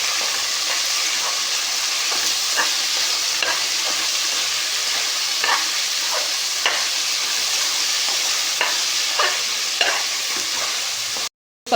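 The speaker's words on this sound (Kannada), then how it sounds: "ಚೆನ್ನಾಗಿ ಹುರ್ಕೊಳ್ಳೋಣ." Fresh avarekalu beans sizzle steadily in a hot pan while a spoon repeatedly scrapes and stirs them, producing a constant frying hiss punctuated by irregular clinks, close by, with no talking.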